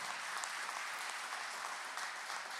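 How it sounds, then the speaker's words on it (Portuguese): A church congregation applauding during a live worship service, a faint, steady patter of many hands clapping at a distance, with no voices over it. "Dê uma salva de palmas para o Senhor"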